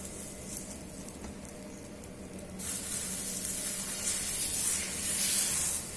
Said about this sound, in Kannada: ಈಗ ದೋಸೆ ಹಾಕ್ಕೊತಾ ಇದ್ದೀವಿ